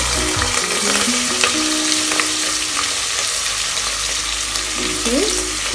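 Green chillies and onions fry in hot oil for a veg khurma, a loud, close, continuous sizzle with the scrape and clink of stirring and a few brief squeaky tones.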